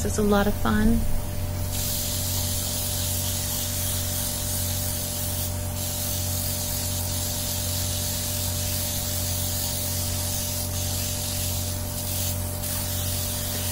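Airbrush spraying makeup onto a face: a brief stretch of talking, then a steady, close, continuous hiss of the spray that runs unbroken to the end.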